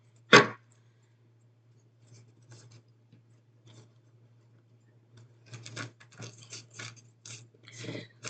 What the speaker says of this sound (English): These are a lot of cards, so they're really hard to shuffle.